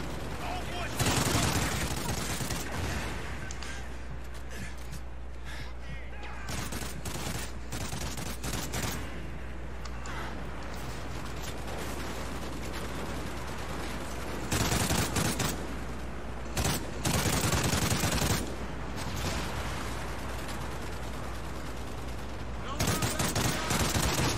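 Rapid automatic gunfire bursts crackle through a shooter video game, loud and sustained with brief pauses, while a player talks excitedly over the action.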